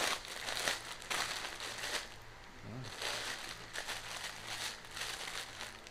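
A plastic-wrapped package is torn open by hand without scissors, with dense, close crinkling and rustling that runs throughout and stays fairly soft.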